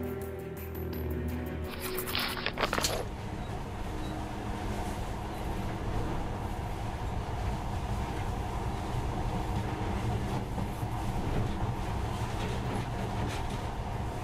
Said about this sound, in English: But now, this monorail seems magic, doesn't it?